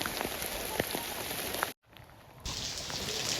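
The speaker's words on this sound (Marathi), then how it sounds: "पाऊस एवढा पडतो आहे की सगळ्या कोपऱ्यांमध्ये पाणी शिरलं आहे" Steady heavy monsoon rain in the Konkan hisses and patters nearby, with a few louder drops, briefly cutting out before the downpour resumes.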